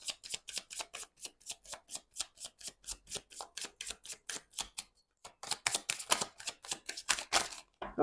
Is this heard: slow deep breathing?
no